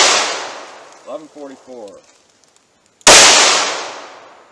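A .357 Magnum revolver fires PMC Gold Starfire rounds, two sharp, loud reports about three seconds apart, each with a broad ringing decay, and someone speaks briefly between them.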